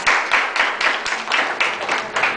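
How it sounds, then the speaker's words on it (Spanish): Applause from an audience at a legal lecture, brisk clapping in a steady rhythm of bursts, close and loud throughout with no talk over it. "Un aplauso para ustedes."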